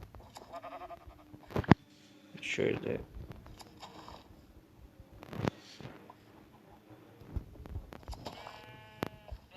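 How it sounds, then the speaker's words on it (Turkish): Minecraft sheep bleat in short bursts amid clicking and shearing effects, with a person talking quietly over them. "Koyunları kırpmaya kırpalım bir saniye."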